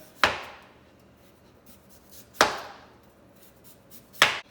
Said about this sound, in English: I'm just gonna get the peel off by slicing down the side of the potato